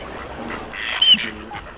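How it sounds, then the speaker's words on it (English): A mandarin duck gives a short, faint squawking call that rises briefly over a soft outdoor background. "The mandarin duck looks like one of those weird animals that lived in Newt's suitcase."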